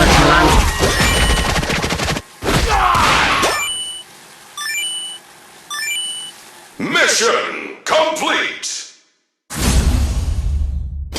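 Rapid bursts of arcade-style gunfire and explosions from the Metal Slug Awakening mobile game come loud and close in several separated volleys, mixed with electronic beeps and whooshes from the game.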